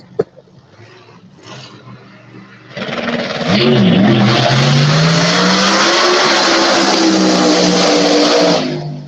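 No-prep drag race cars on small tires with blowers roar loudly at close range, a low idle building into a sustained, screaming full-throttle pass with rising engine pitch and tire noise.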